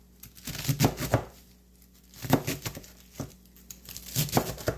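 Cabbage is being coarsely chopped with a knife on a board in three bursts of quick, close, crisp cuts, separated by short pauses.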